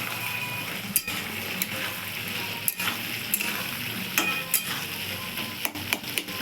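Potato curry with boiled potatoes cooking in a pan, a soft steady sizzle and bubbling with a few faint clinks and scrapes scattered through, close and fairly quiet.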